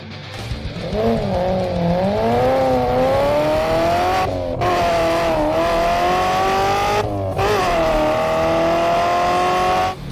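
A 1974 Chevy Laguna race car drives hard, its loud engine rising and falling in pitch with gear changes and revs, with two brief drops where the throttle lifts before it pulls again, alone and close.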